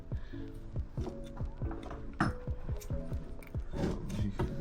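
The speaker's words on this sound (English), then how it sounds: "scrape it off, but you gotta be careful because you don't want to gouge in the surface" A blade scrapes an old gasket off the engine surface of an Adly Jet 50 scooter, giving close, rhythmic scraping strokes against metal with a steady rasping texture throughout.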